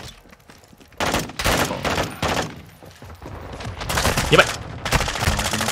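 Loud bursts of automatic gunfire in Call of Duty: Modern Warfare II on PS5 come in several dense clusters, over a noisy battlefield background with occasional voices mixed in.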